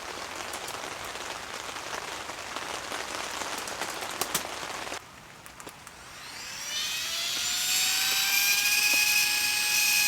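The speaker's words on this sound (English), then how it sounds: "It started raining on me." Steady rain patters throughout, then a high, rising mechanical whine swells up and continues loudly over it.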